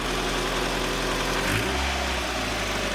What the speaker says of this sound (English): Engine's running great.